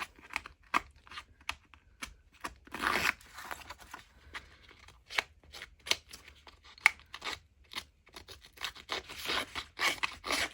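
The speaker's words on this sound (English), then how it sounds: "small bits with my scissors. So I'm just gonna go around the edge." Scissors snip around the edges of paper for a Halloween craft folio, a quick run of sharp, close cuts with brief rubbing rustles between them and no talking.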